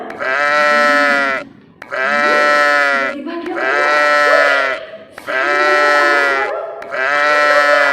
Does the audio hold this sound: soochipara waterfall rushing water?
no